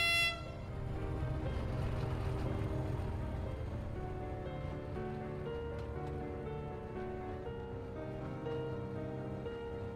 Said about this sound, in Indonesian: Dan kereta api barang bermuatan semen sedang melaju dari arah timur menuju ke perlintasan kereta